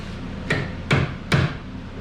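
Three sharp hammer blows land at an even pace in a garage while preparing a car for autocross, each a loud metallic whack with a short ring, close by and with no one talking.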